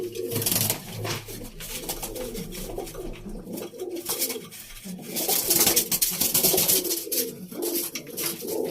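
Loft pigeons kept for flying, including hens, cooing repeatedly in low throaty calls, with rustling and wing flutters mixed in at close range.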